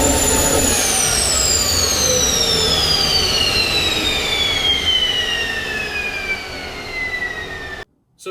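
A homemade gas turbine engine on a test run, a loud steady roar overlaid with high whining tones that slowly drop in pitch as it spins down, then cuts off abruptly near the end.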